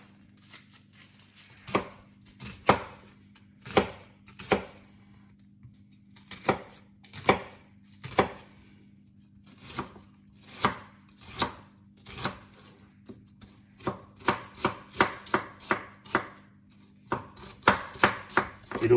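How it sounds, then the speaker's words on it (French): A knife chopping onions finely on a cutting board for a chicken marinade: sharp, close knife strikes, spaced at first and then coming in quicker bursts, with a low steady hum underneath and no talking. "l'idée, c'est vraiment d'hacher fin son oignon pour qu'il se marie bien avec la marinade"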